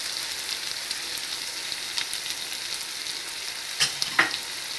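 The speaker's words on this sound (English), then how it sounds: "Let them fry for 2 to 3 minutes." Capsicum, tomato and spices for pulao fry in a pan, giving a steady even sizzle with a couple of brief scrapes or clinks near the end and no talking.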